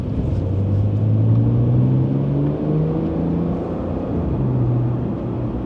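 A Porsche 992 GTS in Sport Plus mode rumbles steadily from inside the cabin, its engine tone rising and falling through brief rev-matching blips on downshifts.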